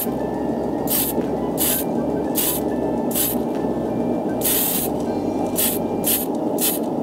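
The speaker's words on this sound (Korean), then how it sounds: "유광 스프레이 이제 클리어 이제 TS13번을 이제 촉촉하게 뿌려 주시면 되겠습니다" Clear gloss TS13 spray paint is sprayed onto a plastic model kit in repeated short hissing bursts, about eight in a row, each lasting under a second, with a steady low background hum underneath.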